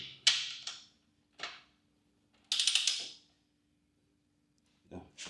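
A torque wrench tightens a frame slider bolt on a 2025 Suzuki GSX-R750 during a no-cut slider install. It gives several short, sharp metallic clicks and ratcheting bursts in irregular clusters, close by and fairly quiet, with no talking.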